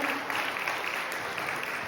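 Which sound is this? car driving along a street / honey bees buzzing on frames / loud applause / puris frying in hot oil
loud applause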